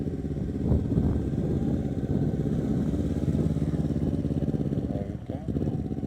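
A motorcycle engine running steadily at moderate revs nearby, a throaty mid-pitched drone that holds fairly even, with faint voices underneath.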